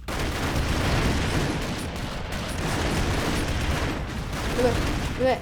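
Dense, continuous bursts of rapid gunfire with booming impacts, loud and unbroken, with video-game-like sound effects throughout, from the game Broforce.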